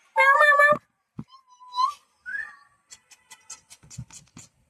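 A single drawn-out cat meow, followed by a few soft whistly squeaks and light taps in an otherwise quiet room.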